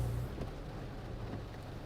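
Heavy rain falls outside a parked car at a workplace, a steady, dense hiss and patter that continues evenly throughout with no voices.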